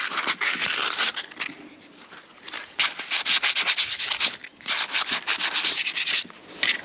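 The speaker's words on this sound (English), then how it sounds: "I shall just give it a quick rub over just to make sure I can get the new one on easily." Bike handlebar being rubbed down by hand to remove flaky paint, close, scratchy sanding strokes coming in repeated bursts with brief pauses between them.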